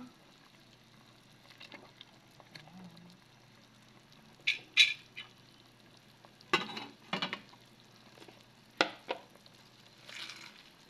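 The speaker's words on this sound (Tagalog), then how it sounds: "So, ilagay ko na po ang ating pong gulay." Vegetables are dropped into a pot of sinigang fish soup with maya maya in a home kitchen, making several brief splashy clatters and stirring sounds separated by quiet gaps, over a soft simmer.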